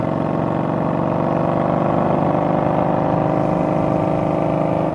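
A Yamaha Bolt motorcycle with a homemade exhaust fitted with a bolt-in baffle runs steadily close by, a loud continuous idle with a rough low pulse and no talking.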